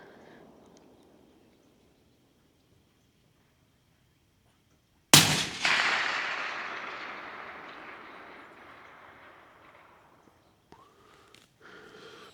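One loud, sharp blast from a rifle with a 20-inch bull barrel fired at long range. The sharp crack is followed by a long, slowly fading echo rolling across open ground, with only faint background noise before the shot.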